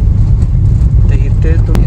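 A car pulls away from a petrol station after refuelling, its engine a steady low rumble that stays close and fairly loud throughout, with a faint voice in the background.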